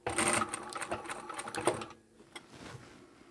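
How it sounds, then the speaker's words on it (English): A sewing machine back stitching the seam of a small rounded pouch, running in quick rattling bursts close up for about two seconds, then falling to a few faint clicks and near quiet. "I'll back stitch here, and then I'll come forward about 3 or 4 fingers width and back stitch again"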